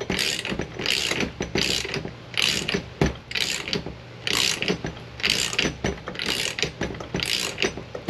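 A half-inch breaker bar with a ratcheting socket clicks in repeated bursts while tightening the pinion nut on a Miata differential against its crush sleeve, close and clear, the rhythmic pawl ticks coming in short strokes with brief pauses.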